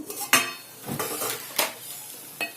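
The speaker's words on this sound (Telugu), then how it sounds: "ఇప్పుడు మనం మూత తీసి ఇది ఎలా ఉందో చూద్దాము" A lid comes off a pot of cooking cluster beans, giving several close metallic clanks and rattles spaced across a couple of seconds over a faint kitchen hiss, with no talking.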